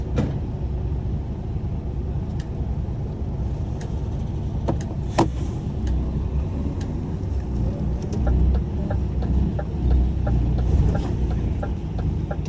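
A truck pulls out of the unloading area at Paris Le Bourget airport, its engine rumbling steadily and loudly throughout, with a few faint clicks and knocks over the drone.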